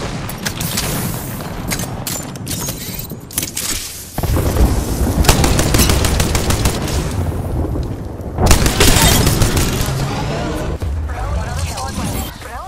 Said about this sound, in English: Already on my mark, firing for effect.